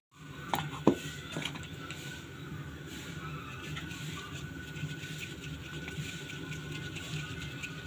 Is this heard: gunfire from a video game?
no